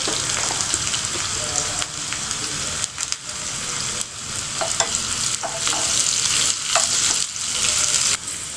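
Green chillies and asafoetida sizzle and crackle in hot oil for a tempering, a loud continuous frying hiss with occasional stirring scrapes, close up.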